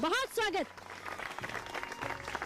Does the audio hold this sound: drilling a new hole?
no